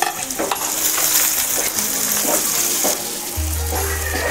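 Onion drops into hot oil already cooking with garlic and cumin, raising a loud, close, continuous sizzle with scraping stirs on top; a low hum enters near the end.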